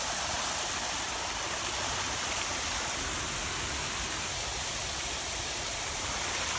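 Yahoo Falls, a waterfall, roars in a dense, constant rush of water that holds steady and loud throughout, with no voices.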